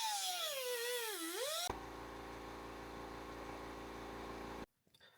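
A rubber hose being cut right up against a hose clamp during an LS engine swap into a Land Rover Discovery 2, heard as a steady, loud buzzing cut lasting about three seconds before stopping abruptly, preceded by a brief whining tone.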